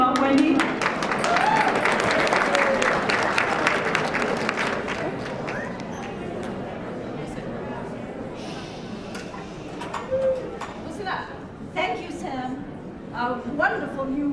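Audience applause for Wendy McKenzie at an awards event, dense and loud at first, then thinning into scattered claps as voices talk and cheer over it.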